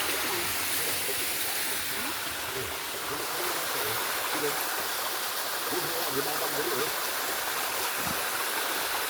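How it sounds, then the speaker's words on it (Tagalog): Strong stream water flows in a steady, loud, broadband rush that continues without a break, with faint low gurgles beneath it. "Malakas ang agos ng tubig."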